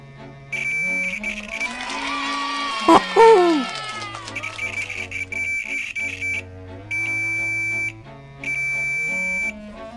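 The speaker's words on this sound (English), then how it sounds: "I've got the meter set to tone, so it should beep if it's working." Continuity tone from a multimeter probing a coil during repair of a 1948 Crosley Model 9-407 television, heard as a steady high beep sounding in several separate bursts over a low hum and other bench noise.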